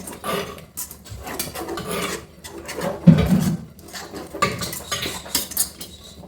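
Dry spicy chicken kondattam gravy gets stirred in a pan with a utensil, a close, continuous run of scraping and rubbing strokes with occasional metallic clinks and a sharper knock midway, no voices.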